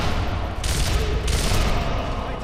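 Submachine gun fire in the video game Sniper Elite, a loud continuous burst of rapid rounds with two denser volleys layered over steady low rumble, no talk.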